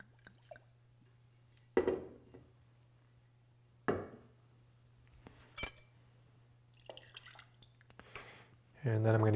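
Brandy is poured into a metal jigger for a Metropole cocktail, with a few sharp clinks of bar tools spaced apart, a short trickle of liquid and a steady low hum beneath, and a voice begins at the end.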